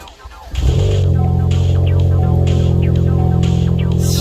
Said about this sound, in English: this is my first startup of the AWE Track Edition